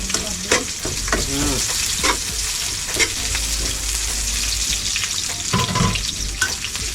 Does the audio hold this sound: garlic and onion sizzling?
yes